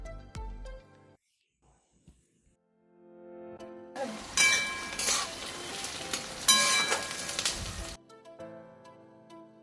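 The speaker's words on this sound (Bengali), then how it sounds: "পেঁয়াজটা একটু ভাজা ভাজা হয়ে যাবে" Onion frying in a pan for chicken kosha, with a loud sizzle that swells after a quiet start, fading briefly and rising again before dropping back, with faint stirring under it.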